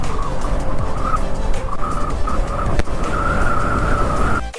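On a mountain ride in Ladakh, a vehicle rumbles along under a steady engine drone with a wavering high-pitched tire squeal that rises and falls, loud and close, ending in an abrupt cut.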